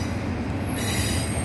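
A Norfolk Southern container and piggyback freight train rolls past beneath a street overpass, a steady loud rumble of cars with high metallic wheel squeal and no voices.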